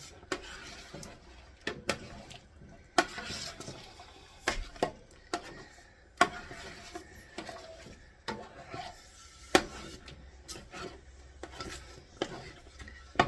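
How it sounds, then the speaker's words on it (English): A spoon scrapes and stirs strawberry blackberry pie filling in a pot, soft rubbing strokes broken by sharp clicks and knocks against the pot at irregular intervals, quiet and close. "Make sure you keep stirring on the bottom so that it doesn't burn"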